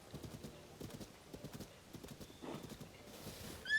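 Horse hooves clip-clop at a steady walking rhythm in Zelda: Tears of the Kingdom, fairly faint and continuous, with a short whinny near the end.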